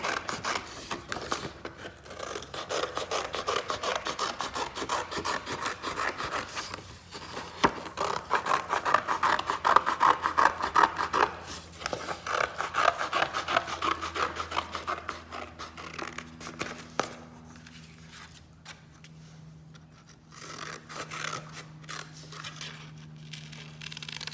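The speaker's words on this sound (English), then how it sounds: "So let's cut out the head, and then we're going to be adding in the ears and the neck." Scissors cut a paper head shape for a school craft, producing close, raspy snipping and rubbing strokes in uneven bursts, with quieter handling of the paper near the end.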